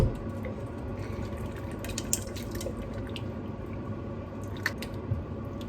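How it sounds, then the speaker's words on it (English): Thick coconut cream is poured into a pan of cooking tomatoes for a red lentil curry, giving a soft, wet squelching and gentle bubbling that stays steady and close, with no talking. "Going straight in with the coconut cream."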